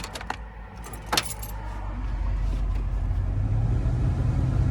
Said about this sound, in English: Let's turn the truck on again.